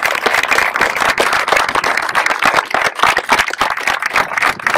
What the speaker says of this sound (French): On peut même s'applaudir, je pense.